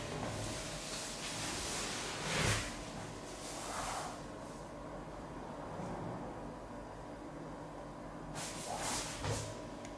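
An airbrush air compressor set to about 3.2 pressure gives a continuous, close hiss of rushing air, with a few soft bumps and thuds from nearby handling and no talking.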